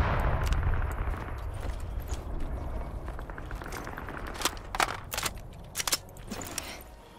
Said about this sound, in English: They're shooting like all around us.